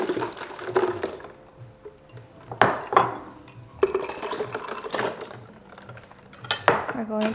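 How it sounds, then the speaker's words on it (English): A utensil stirs mango agua fresca mixed with water in a pitcher, giving irregular clinks and knocks against the container over soft liquid swishing, with a few sharper hits spaced apart. "We're going to mix it."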